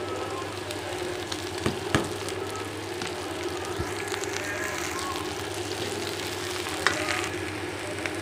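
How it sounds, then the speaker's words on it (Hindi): Okra sizzling in a pan with lightly cooked onions, a steady close frying hiss with a few soft clicks and stirring knocks, no speech over it. "अभी हमारी भिंडी फ्राई हो रही है।"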